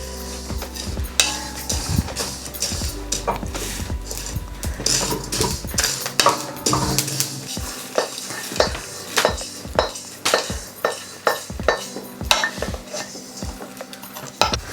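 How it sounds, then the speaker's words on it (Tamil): Fenugreek seeds being dry roasted in a pan over low heat for homemade Jaffna curry powder, with repeated close scraping and clinking of a utensil against the metal pan in an irregular stirring rhythm, no talking. "நல்ல நான் சிலுவாக நெருப்பை குறைச்சி வச்சு தான் இதை வறுக்கிறேன்"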